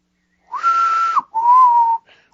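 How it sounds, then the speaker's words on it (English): A person whistles two clear, sustained notes up close, a higher flat tone and then a slightly lower one, separated by a short gap. "I just whistled like a normal whistle"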